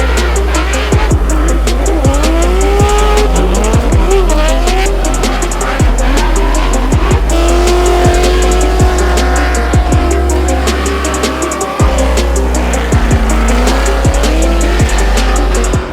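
Drift car with a 1000whp blown LSX V8 in a Nissan 350z at Formula Drift New Jersey, Wall Speedway: a loud, sustained engine roar with rising and falling revs, shifting pitch and tire squeal throughout, up close.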